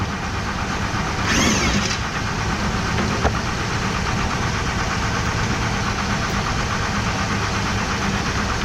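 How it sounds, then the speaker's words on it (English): A Mazda Bravo V6 ute sits idling in a workshop, its engine giving a steady continuous rumble close by, with a brief hiss early on and a single small clank partway through. "So while the ute's sit there idling, warming up to get the right stuff."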